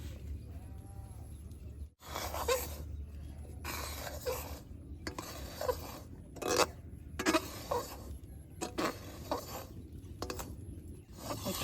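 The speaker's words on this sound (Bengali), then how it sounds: "কড়াইটা গরম হয়েছে, চালের গুঁড়া দিয়ে আমি এখন বেশ সুন্দর করে বাইজে নেবো।" Rice flour is dry-roasted in a hot kadai, with repeated scraping strokes of a spatula against the metal wok coming in uneven bursts, moderately close and without talk.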